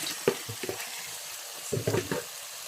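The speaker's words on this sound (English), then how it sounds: "So now I'm going to add my meat that I boiled." Boiled meat is tipped into a pot of efo elegusi and stirred in, giving soft wet thuds and squelching, scraping stirs over a steady low sizzle, with two clusters of mixing motions close by.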